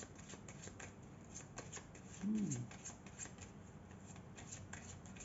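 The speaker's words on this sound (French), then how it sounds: "on va prendre une petite carte magique pour conclure ces deux tirages" Tarot cards are shuffled and drawn at close range, a faint steady riffling and rubbing of card stock with a brief louder flick near the middle, and a voice speaks softly in the background.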